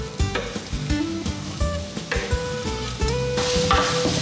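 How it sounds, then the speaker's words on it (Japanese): Onions fry in olive oil in a frying pan with a loud, crackling sizzle, broken by repeated clacks and scrapes of a utensil stirring against the pan, growing brighter toward the end. "玉ねぎを入れていきます。"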